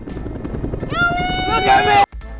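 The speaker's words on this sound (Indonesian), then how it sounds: "terdengar suara helikopter yang mendekat ke arah mereka" A helicopter approaches in a zombie outbreak film, its low rotor thrum and rising whine heard under voices before a sudden cut.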